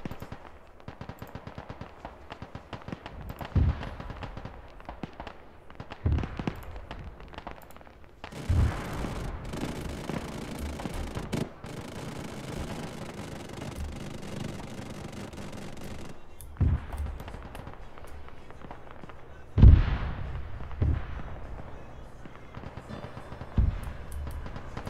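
Heavy gunfire and repeated explosive mortar impacts during the Operation Black Mountain mission of a military shooter game, with dense continuous firing and sharp loud booms near 8, 17 and 20 seconds.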